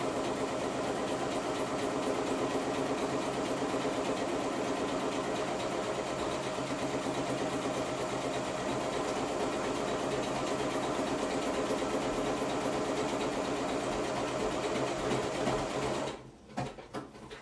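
A sewing machine's buttonholer stitches a buttonhole with a fast, steady mechanical whirring and rhythmic needle chatter. It runs continuously and close for about sixteen seconds, then stops abruptly with a few short clicks.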